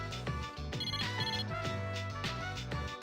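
A phone rings in the Persona 3 Portable video game, a bright electronic ringtone melody repeating in short tonal bursts over a steady low game tone, with no talking.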